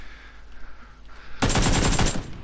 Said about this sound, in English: As soon as you fire your gun, your sound bubble is huge.